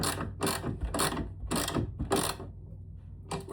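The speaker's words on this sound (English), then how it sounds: "Now I'm using a ratchet" A ratchet tightens nuts on a TV wall mount in a series of quick clicking bursts, about five short strokes with a pause before the last, heard close up with no talking.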